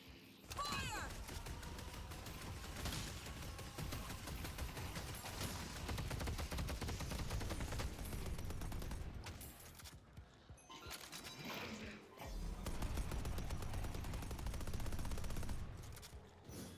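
Rapid, sustained gunfire from the hero shooter Deadlock, dense volleys running almost continuously over about seventeen seconds with brief lulls, loud and close, with a little talk mixed in.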